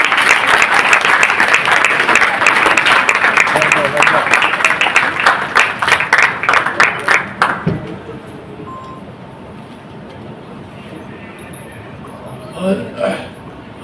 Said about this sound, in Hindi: एक बार पुनः जोरदार ताली।